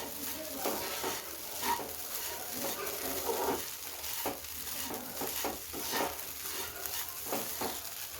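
Kande pohe being stirred in a pan with a spoon, with scraping strokes repeating at a steady rhythm over a soft, constant sizzle close by, and no talking.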